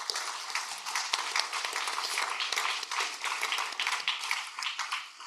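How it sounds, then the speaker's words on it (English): A round of audience applause at a Board of Deputies plenary meeting, fairly soft and steady with many overlapping claps, continuing evenly throughout without talk. "So let's give them a round of applause."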